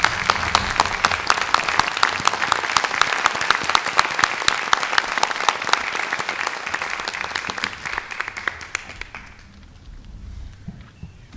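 Audience applause fills a Wilmington town meeting in 2017, a dense, sustained clapping from a large crowd that holds steady for several seconds before thinning and fading out near the end.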